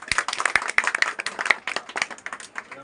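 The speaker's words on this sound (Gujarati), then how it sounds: "ભાઈ જોરદાર તાળી" A small group claps loudly and unevenly for a few seconds, sharp close hand claps overlapping in a brisk burst of applause.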